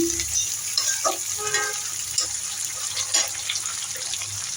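Pressed dried fish (chapa shutki) stirred into onions fried until soft in a pan, a steady sizzle with scraping and clinking of the spoon and brief watery splashes, close by and without talk.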